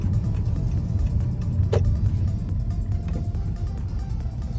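A turbocharged H22-engined Acura CL rolls into a radiator repair shop, its engine a low, steady rumble close by with a brief higher squeak partway through.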